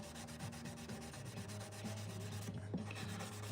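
Steady back-and-forth sanding of a guitar fretboard with 400-grit sandpaper, a close, continuous rubbing rasp with regular strokes and no talk.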